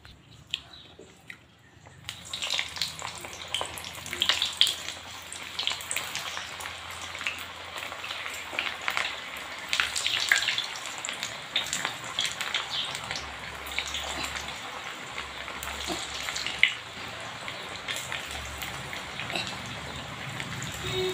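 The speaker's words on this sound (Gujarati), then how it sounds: "ગરમ તેલના અંદર આપણે બોલ્સને તળી લેશું" Maggi masala balls fry in hot oil with a steady, soft crackle and spatter that begins after a quiet moment and continues evenly throughout.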